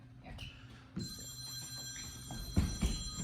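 A telephone rings with steady electronic tones during a course walk at a ninja competition qualifier, over low room noise and a few dull thumps.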